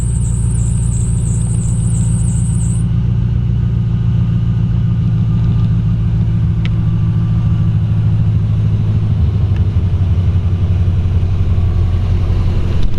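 An LS1 V8 idles in a 1932 Ford roadster, a steady deep rumble running close and loud throughout, with a brief high whine at the start.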